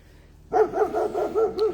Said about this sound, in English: You are barking on my video, along with all the other noise.